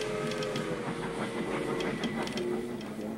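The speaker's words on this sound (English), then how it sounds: "Listen for the train arriving at Port Moody Station." A train arriving at Port Moody Station rumbles and clatters steadily through the whole stretch, with faint metallic squeals and tonal hums riding over a dense, continuous roar.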